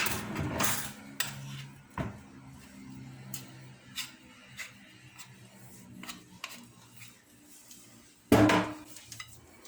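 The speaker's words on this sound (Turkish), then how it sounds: "Şimdi şey kaşık yardımıyla bunu sıyırmam lazım." A spoon scrapes and taps a cooling summer helva mixture in a pan, making sparse clicks and scraping strokes over a quiet hum, with a louder clatter near the end.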